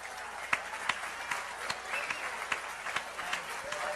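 A crowd applauding steadily, with many overlapping claps and a few sharper slaps standing out, sustained and fairly loud throughout.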